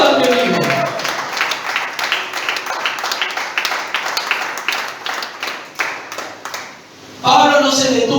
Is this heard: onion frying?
no